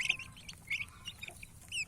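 An injured chick with an inflamed wing cheeps among other young birds, a few short high peeps and chirps scattered over a quiet background.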